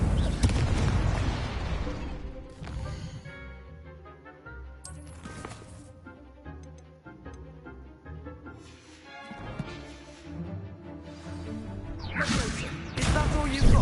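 Incendio fire spell cast in Hogwarts Legacy, a burst of whooshing flame and crackling impacts over a layered game soundtrack, with several heavy booms and swishes rising and falling through the fight.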